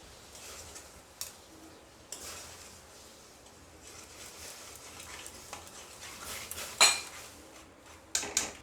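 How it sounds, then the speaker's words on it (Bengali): A spoon scrapes and clinks against a metal pot while milk powder is stirred into hot water on a gas stove, soft swishing broken by scattered sharp taps, louder near the end. "এখন আমি গ্যাসটাকে একটু কমিয়ে দিয়ে দুধটাকে গুলে নেব।"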